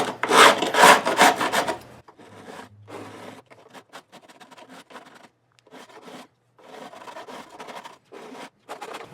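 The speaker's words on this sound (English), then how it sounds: "I'm using my right hand for the file and starting at the first fret and overlapping my strokes" A hand file dresses the fret ends of a guitar, working from the first fret. The strokes are loud and overlapping at first, then turn into lighter, shorter scraping passes with brief gaps, all close by.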